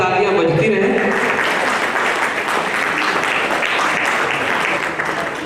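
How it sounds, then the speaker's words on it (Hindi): At a memorial ceremony for a revolutionary, loud, dense applause from the gathered crowd fills the hall continuously and barely eases toward the end. "तो जोरदार तालियां बजती रहें"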